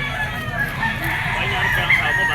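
A stag rooster crows at a pet market, a bright, strained call rising over the bustle of the crowd, with people talking nearby.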